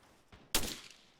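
A burst of gunfire in a video game: a faint short shot, then a louder sharp blast that rings out and fades, with no talking.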